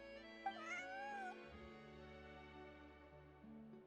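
Bonnie, a collared cat in Genshin Impact, gives a single clear, drawn-out meow close by, then a quiet tonal background carries on without speech.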